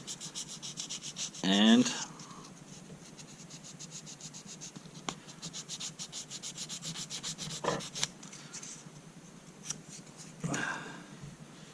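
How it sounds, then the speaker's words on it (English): A thumbnail is sanded by hand with fine sandpaper in short, close rubbing strokes: one louder scratchy burst early, then quieter intermittent scrapes and taps, with a brief spoken word. "I will grind it a little bit down with some fine sandpaper here"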